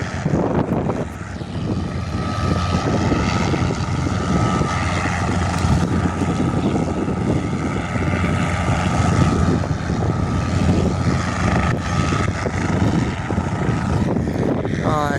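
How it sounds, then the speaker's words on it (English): A Cessna 182 light propeller plane doing a touch and go drones steadily throughout, under heavy wind buffeting at an airfield on a windy day. "While the Cessna 182 does a touch and go."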